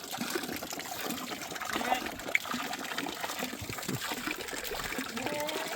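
Water runs steadily from a tap outdoors, a continuous close splashing trickle with no talk over it.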